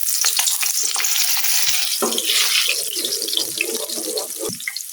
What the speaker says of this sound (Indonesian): Oke, sekarang kita menggorengnya. Kita goreng bawangnya.